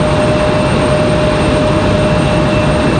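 Icelandair jet airliner landing at a stormy Raleigh-Durham airport, a loud steady engine roar with a faint high whine running through it, close and unbroken, no speech.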